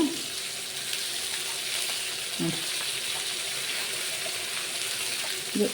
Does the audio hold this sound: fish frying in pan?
yes